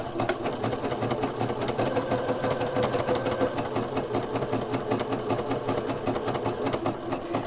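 A household sewing machine runs steadily, stitching a decorative flower pattern with a fast, even mechanical rattle from start to finish, close and continuous with no talk.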